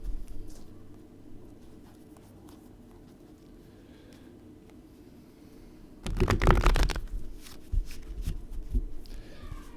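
A deck of cards being shuffled and riffled, a short burst of quick crisp fluttering snaps arriving midway after a quiet stretch, fairly close and loud, with a few softer handling sounds afterward.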